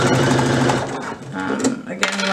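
A sewing machine stitching a fabric belt. Its rapid, mechanical whirring runs close and continuous, slowing briefly, while someone talks over it.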